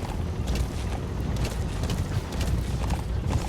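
Rapid horse hooves galloping across the ground in Metal Gear Solid V: The Phantom Pain, a steady dense drumming with creaking tack and mechanical rattles throughout and no pauses.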